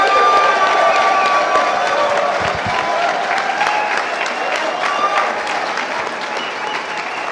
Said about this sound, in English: if we could just, you know, from clapping or from supporting with a yell or whatever, how many of you believe Bob Lazar